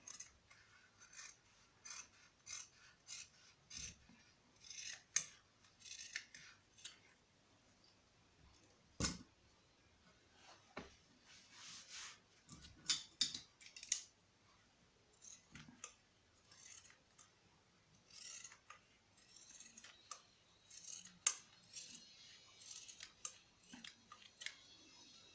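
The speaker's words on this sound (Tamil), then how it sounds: "அந்த இடத்துல நம்ம கட் பண்ணி எடுத்துக்கலாம்." Scissors snip through old denim jeans fabric in a quiet room, a long series of crisp, close cuts in irregular bursts with scraping and rustling between them.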